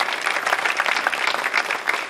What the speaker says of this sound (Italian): Un applauso anche per lei.